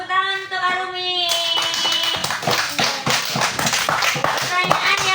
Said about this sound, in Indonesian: tepuk tangan untuk Arumi.